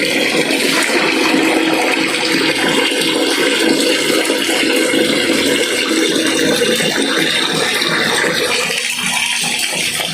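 Water rushes and splashes continuously for several seconds, a loud, close gushing pour with some rattling, no voices.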